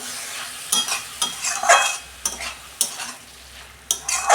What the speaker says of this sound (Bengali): আমি ভালো করে কষাবো।